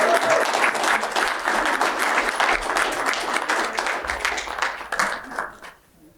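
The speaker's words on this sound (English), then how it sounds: "Give it up for your head coach, Lisa DeLabout." A crowd at a county meeting applauds a head coach, dense steady clapping from many hands that carries on for several seconds before fading out at the end.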